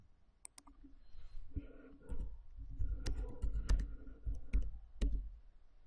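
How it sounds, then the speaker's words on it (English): Scattered keystrokes and clicks on a computer keyboard, quiet and close, coming in short irregular bursts with low thumps between them. "We can then type in the pet's name."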